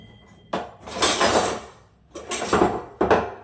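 A spoon clinks and scrapes inside a glass or cup as milk is stirred into fresh juice, in three loud, close bursts separated by short pauses. No one speaks.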